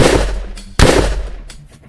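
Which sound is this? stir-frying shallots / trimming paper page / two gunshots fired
two gunshots fired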